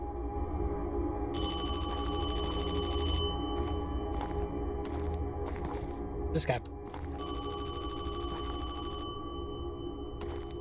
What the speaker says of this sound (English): Okay, let's answer the phone.